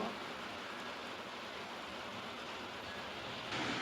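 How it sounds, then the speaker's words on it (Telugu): Steady rain falls continuously with a dense, even hiss that stays level throughout, with no voices. "ఎలా పడుతుంది చూసారా మాకు వర్షం"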